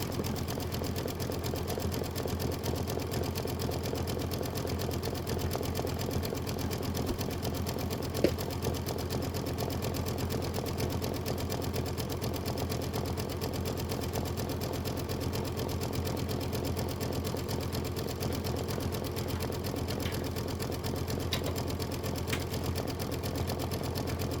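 Sewing machine running steadily while stitching a bench pillow, a continuous close mechanical whir with a fast even rhythm, alone with no talking.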